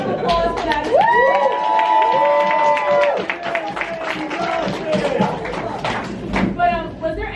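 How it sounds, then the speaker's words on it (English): An audience breaks into applause and cheering, a dense sustained wash of clapping with a few thumps, while people talk and call out over it. "Let's get a round of applause for that."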